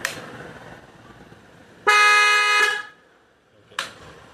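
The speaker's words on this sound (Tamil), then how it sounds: "நான் ஹார்ன் அடிக்கிறேன்" An extra horn fitted to a motorbike honks once in a long, steady blast of about a second, then a second short toot follows after a pause, loud and close.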